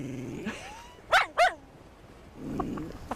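A puppy gives two short, high yelping howls up close, copying the other dogs, with quieter dog noises before and after.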